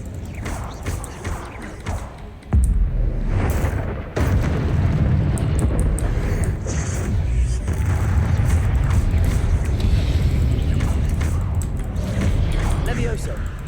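Incendio fire spell cast in Hogwarts Legacy: a sudden loud booming whoosh near 2.5 seconds, then a sustained roaring, crackling burst of flame with further thuds, dense and continuous to the end.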